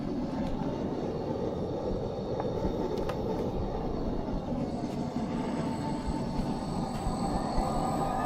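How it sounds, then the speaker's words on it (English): A blower runs on a grateless wood gas gasifier, making a steady, loud mechanical drone with a constant hum and faint high whine. It stays even throughout with no talk. "put on the blower."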